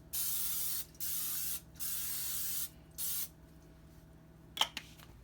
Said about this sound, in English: a little bit of spray grease, and we'll just lightly grease our pan.